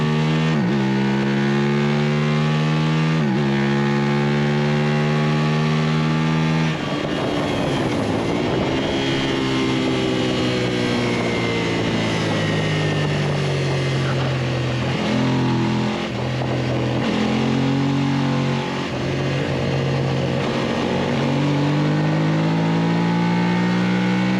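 A Ducati motorcycle at full race pace on a road-racing track during a novice club event in October 2022, its engine roaring loudly and continuously, the pitch climbing and dropping with each gear change and overtake.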